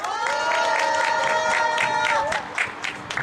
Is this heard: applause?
yes